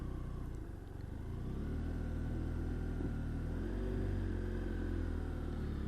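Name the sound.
BMW F700 GS motorcycle doing a slow U-turn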